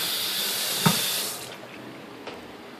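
Tap water runs steadily into a container with a broad, close hiss, then cuts off about halfway through, leaving a quiet tail with a faint drip or tap.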